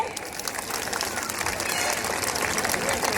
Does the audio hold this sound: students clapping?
yes